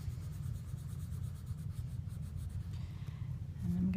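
Close, steady scratching of a Prismacolor colored pencil pressed firmly on paper, continuous rhythmic strokes with a brief shift near the end.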